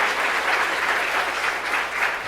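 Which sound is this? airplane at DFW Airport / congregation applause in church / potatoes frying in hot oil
congregation applause in church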